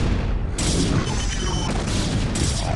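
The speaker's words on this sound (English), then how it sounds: "Blue just keeps firing with his goons and is picking off the Archon and shooting Zealots" Dragoons firing in a StarCraft 3v3 battle on the Big Game Hunters map, with a dense, continuous clatter of energy shots and explosions as they pick off an Archon and Zealots.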